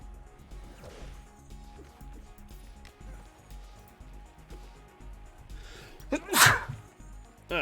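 A man sneezes once, sharp and loud, near the end after a stretch of quiet background murmur and light knocks.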